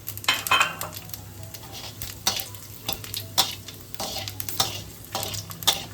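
Bay leaf, dried chilli, cumin and whole garam masala crackling in hot oil in a kadai, a sizzle broken by repeated sharp spoon scrapes and clinks against the pan.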